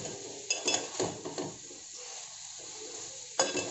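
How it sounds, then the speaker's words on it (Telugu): Cauliflower florets fry in a spicy masala in a pan, with stirring scrapes and clinks at the start and end over a soft, steady sizzle; no talking. "ఒక 5 నిమిషాల పాటు ఇలా వేయించుకోవాలి మసాలాలో."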